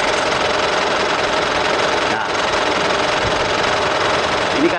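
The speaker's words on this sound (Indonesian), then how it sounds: "ini murni suara dari piston dan kompresi" Diesel engine of a used Mitsubishi Pajero Sport idles up close, a loud, steady mechanical clatter with even knocking and a brief word spoken over it.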